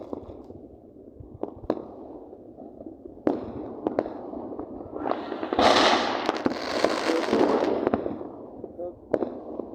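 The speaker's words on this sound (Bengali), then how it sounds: "সবাই দেখতেই পাচ্ছ কি সুন্দর বাজি ফাটছে চারিদিকে।" New Year fireworks go off all around outdoors, with scattered sharp bangs and a dense crackling burst in the middle, heard at a moderate distance while a person talks over them.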